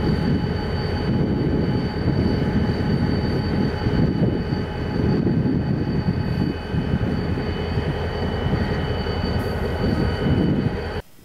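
A locomotive-hauled train in eastern Pennsylvania rumbles past loudly and steadily, with a low rolling roar and faint high whines above it, cutting off abruptly at the end.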